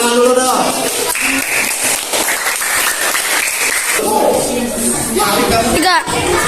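A fifth-grade classroom breaks into applause for students after a group presentation in a religion lesson, a dense burst of clapping lasting several seconds, mixed with voices and chatter.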